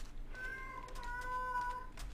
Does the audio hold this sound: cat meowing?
yes